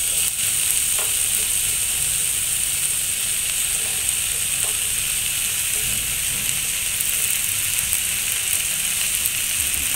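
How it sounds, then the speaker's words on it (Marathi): Chopped onion sautéing in hot oil in a pan, a steady close sizzle with occasional soft scrapes of stirring, no talk over it. "त्यानंतर आपण मस्तपैकी त्याला हलवून गरम करून घेऊया. जास्त लाल करायचा नाही हे लक्षात राहू द्या. कांदा परतून झालाय."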